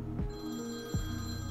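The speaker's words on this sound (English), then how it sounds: "The second I say that, the phone starts ringing again." In the video game Moe Era, a phone rings with a steady, continuous electronic tone that carries on without any voices.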